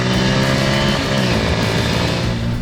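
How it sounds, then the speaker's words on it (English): A Bajaj Pulsar P150 motorcycle with a 150cc single-cylinder engine runs loud and close, its raspy, buzzy exhaust note holding steady throughout without any speech. "150cc bike, it's actually quite raspy"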